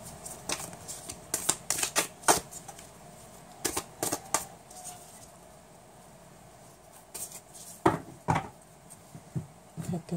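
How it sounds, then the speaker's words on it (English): A tarot card deck is shuffled in quick, crisp riffling bursts and soft card taps, a series of close, quiet clusters separated by short pauses, with no voices. "I want to shuffle the deck one more time"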